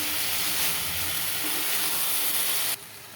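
Potatoes sauté in a pan with a steady, bright sizzling hiss that runs unbroken for most of the moment before dropping away suddenly near the end.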